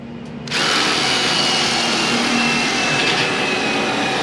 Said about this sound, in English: We're only sitting here drilling before he's getting bolts and pieces.